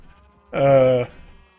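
A Minecraft sheep gives one loud, clear bleat lasting about half a second, standing alone against quiet background sound.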